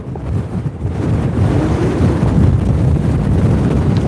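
Wind buffeting the microphone during a Onewheel ride in Aurora, Colorado: a loud, continuous low rumble and roar that stays steady throughout with slight gusting swells, and no voices.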